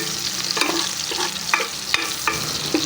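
Onion frying in a pan for a mung bean vegetable dish, with a loud continuous sizzle and several short stirring scrapes spaced through it.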